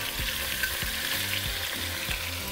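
Browned chile-braised pork sizzles loudly as it goes back into the pot, a continuous close fry with a few soft scraping stirs and no talk.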